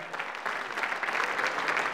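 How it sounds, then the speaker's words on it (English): A song contest audience applauds as performers come on stage, a steady and fairly soft patter of clapping across the whole moment with no voices rising above it. "So give them a big round of applause."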